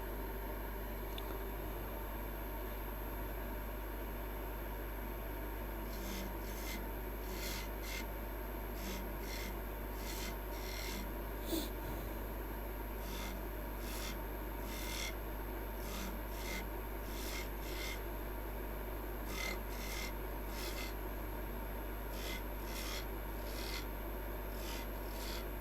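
Staircase spindles are turned on a wood lathe: a faint, continuous rubbing rasp with quick scraping bursts repeats over a low steady hum.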